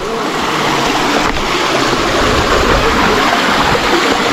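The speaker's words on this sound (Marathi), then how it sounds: "फक्त सगळीकडे पाण्याचा आवाज" Rushing water from the Ekda Kumbha waterfall pours steadily in a quiet evening setting, a continuous broadband roar with no break or voice over it.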